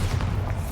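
A deep, muffled boom from the Bombarda blasting spell in the Hogwarts Legacy game, a single low rumble lasting under a second.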